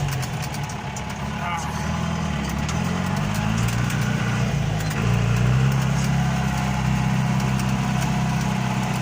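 A John Deere 2140 tractor engine runs at a steady, low rumbling idle close by while gears are changed, with a slight rise in intensity midway and voices talking over it.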